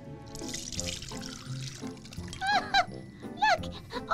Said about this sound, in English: now we're going to pour our milk through a sieve.